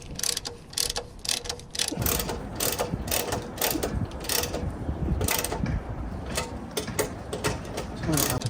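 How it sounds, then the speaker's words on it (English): A spanner ratchets steadily while tightening a solar panel fitting, with close, loud repeated clicking and mechanical rasping that continues throughout without pause. "get a spanner and we'll just tighten that up gingerly"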